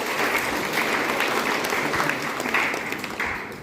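A congregation at a church foundation day event applauds for a woman named Anisha, with continuous, dense clapping from many hands that stays steady throughout and tapers slightly at the end.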